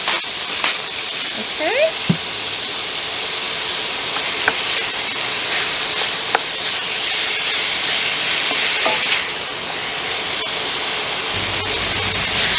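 Beef searing in a hot pan for stroganoff, a steady bright sizzle and hiss running throughout with occasional stirring scrapes and a brief spoken word near the start.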